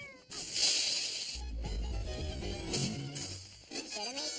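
A cat meows a few times, fairly clear and close, with a brief hiss-like noise at the start.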